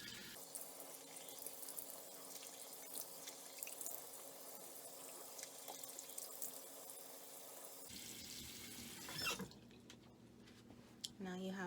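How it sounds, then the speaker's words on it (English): A faucet runs steadily with warm water while someone rinses a homemade natural face scrub off their face, the splashing flow continuing for several seconds before stopping, followed by faint drips. "I'm gonna wash it off with warm water."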